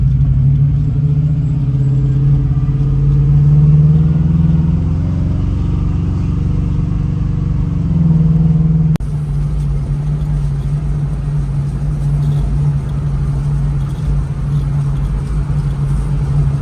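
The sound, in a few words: car engine while driving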